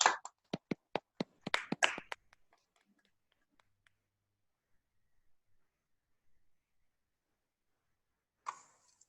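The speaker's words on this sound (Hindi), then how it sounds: "2 तालियों से स्वागत कीजिए राकेश कुमार" Hands clap in a short burst of sharp, separate claps for about two seconds while an audience welcomes a speaker to a webinar, then a long quiet, with a faint noise near the end.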